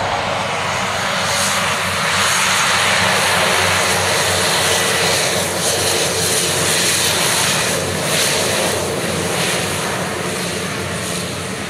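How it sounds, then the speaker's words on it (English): A Beechcraft King Air twin-turboprop plane passes overhead, a loud, steady propeller drone with a broad roar that swells slightly mid-pass and stays strong throughout, heard outdoors with no one talking. "Now we got a king air going by."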